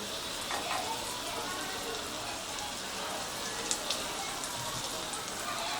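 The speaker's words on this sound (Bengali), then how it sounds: "এবারে আমি এর মধ্যে দিচ্ছি রসুন কুচি," Chopped garlic sizzles in melted butter in a pan, with a soft, even crackle like steady rain and a few faint clinks. It is fairly quiet.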